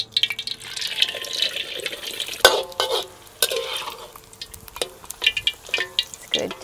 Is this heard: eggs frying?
yes